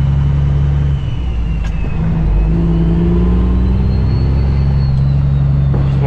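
A semi truck with an empty trailer accelerates up a snowy hill, its engine a loud steady low rumble with rising whine throughout, close and continuous with no talking.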